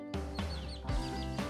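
Newly hatched chicks crowded in a small bin peep in quick high bursts, a few calls close together, near and fairly clear.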